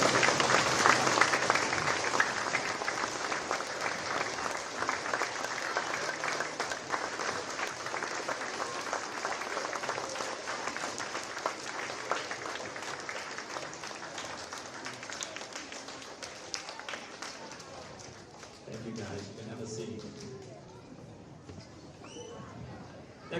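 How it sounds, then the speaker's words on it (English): Audience at a school Veterans Day assembly applauds a World War II veteran, a loud sustained round of clapping from a large crowd that fades gradually toward the end, with some voices mixed in. "Let's stand and give our World War II vet a big round of applause."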